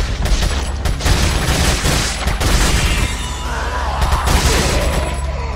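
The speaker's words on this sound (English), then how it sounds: "I got lots of machine gun bullets to spare, boys." Rapid machine gun fire in the Resident Evil 4 video game, loud dense bursts of shots and impacts filling the whole stretch with little pause.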